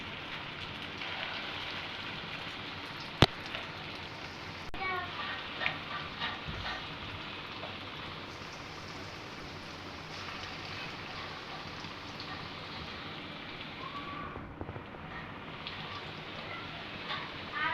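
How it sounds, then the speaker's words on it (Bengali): Shrimp and lentil fritters fry in mustard oil, a steady soft crackling sizzle with a few sharp pops, faint and continuous with no talk. "আমরা স্বাস্থ্য সুরক্ষার কথা চিন্তা করে সয়াবিন তেল বাদ দিয়ে সরিষার তেলে ভাজতেছি বড়াগুলা"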